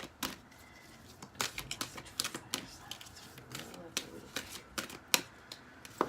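Tarot cards shuffled in quick, crisp riffles and taps, a brisk run of papery flicks close by with faint background hush.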